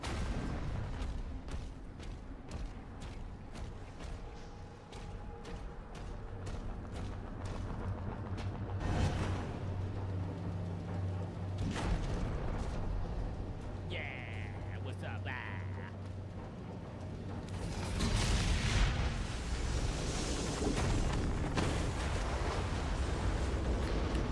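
A hell cannon being destroyed in the video game Doom The Dark Ages, with several booming blasts and a big rumbling eruption near the end over continuous battle noise and a low drone.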